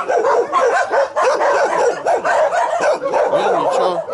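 Several dogs keep barking and yipping in a yard behind a house. The barks overlap in a dense, steady run, with a few whimpering notes, and they sound fairly near.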